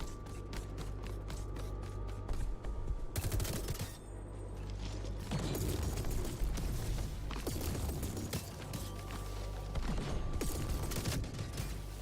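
Heavy explosions boom out in the fast-paced sci-fi shooter Metal Eden, broad bursts breaking through a dense, continuous bed of rapid gunfire and mechanical clatter, loud and close throughout.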